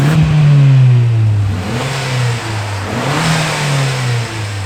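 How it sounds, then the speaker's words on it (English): Mazda 323 GTR 4WD turbo revving loudly at close range, its exhaust rising and falling through a few quick blips before settling toward idle, with no talk. "Just do you guys a couple of little cheeky exhaust revs."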